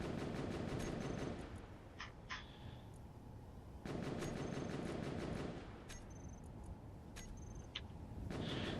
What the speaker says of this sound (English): That shooting you are hearing is from the robot raiders.